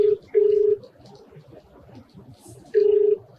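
An outgoing phone call rings out with two long, steady electronic tones separated by a quiet pause, heard over faint background noise.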